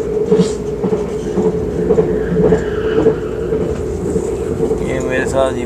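A Malaysian train ride on a rainy day, with a steady low rumble and hum of the moving carriage filling the whole clip, wind buffeting the microphone and a faint tone near the end.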